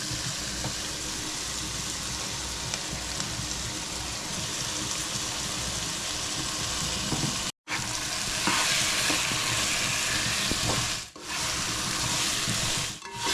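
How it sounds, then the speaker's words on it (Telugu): Ground masala for soya dum biryani fries in a pan with a steady, close, loud sizzle as it is stirred and scraped, with brief breaks where the sound cuts out. "మధ్యలో కలుపుకుంటూ చూసుకుంటుండాలమ్మ, మాడకుండా జాగ్రత్తగా మసాలా అంతా దీనికి పట్టాలి."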